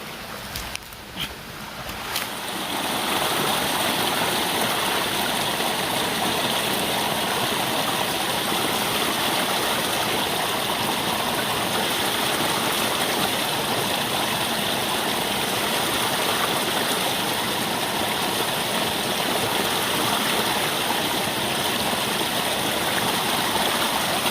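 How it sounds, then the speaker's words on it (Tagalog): Water pours steadily from a natural spring near Mount Paldingan, a constant close rushing and splashing that holds evenly throughout after a few brief knocks at the start. "Ito talaga yung legit na bukal guys."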